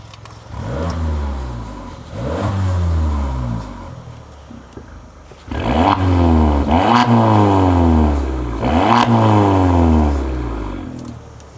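A small car engine revs repeatedly, each burst climbing in pitch then dropping, close and loud, with a brief quieter idle between the first and later revs.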